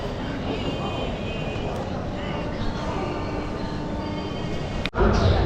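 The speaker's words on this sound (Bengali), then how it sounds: "এই হচ্ছে আমাদের ট্রেন।" A passenger train at New Jalpaiguri station rumbles with a continuous heavy rolling drone, faint murmuring in the background and a brief dip before the noise returns louder at the end.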